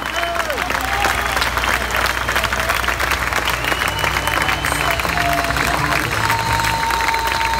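Applause dedicated to cyclist Markel Irizar, a loud, sustained clapping crowd with scattered cheers, mixed with a voice and background music throughout.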